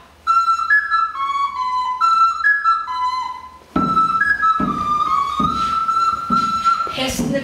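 A clear, bright whistle plays short melodic phrases, imitating an elephant whistling in a children's musical storytelling session; after a pause it returns louder with rhythmic thumps beneath.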